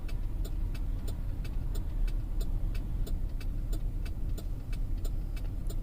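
A 2008 Chevrolet Suburban drives steadily, with a continuous low road and engine rumble and a regular ticking from inside the cabin, heard alone without talk.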